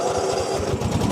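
A Stiga single-blade ride-on lawn mower engine catches and runs, a brief, close, rapid pulsing putter throughout.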